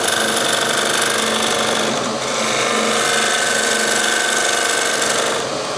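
A wood lathe spins a resin and wood blank as a turning tool is pressed down on the tool rest, producing a loud, continuous whirring scrape with only a brief dip partway through.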